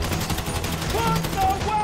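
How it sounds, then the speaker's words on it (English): Bursts of automatic gunfire crackle through a GTA V heist shootout, fairly loud and continuous over the short stretch, with shouted voices mixed in. "We're receiving fire!"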